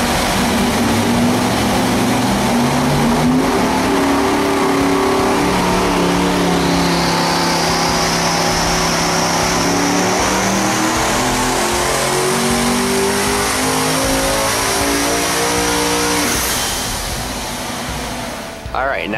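A boosted EFI engine with a billet intake manifold and under-manifold injectors roars steadily on a dyno, its pitch climbing smoothly through a long loud rev before cutting off abruptly at the end.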